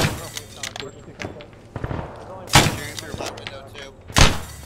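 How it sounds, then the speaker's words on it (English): A few sharp gunshots go off inside a WW2-era Arma 3 battle, fired through a window, with loud close cracks standing out amid chatter and movement noise. "I'm gonna shoot through the window."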